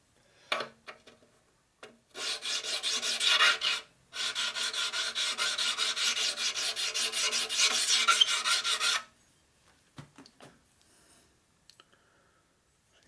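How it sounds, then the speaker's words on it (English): A metal part is deburred by hand with a file, giving a loud, close rasping scrape in two continuous bursts, a brief one and then a longer one, separated by a short pause and followed by a few light clicks. "So this we just want to deburr it. Do not cut it any."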